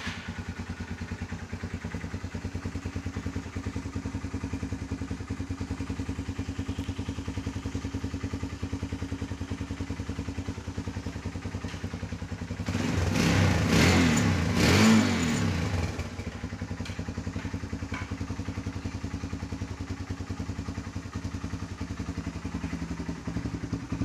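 A modified Yamaha R15 V3 200cc sport motorcycle sits idling quietly, then gives a short, loud rev of about three seconds before dropping back to a low steady idle.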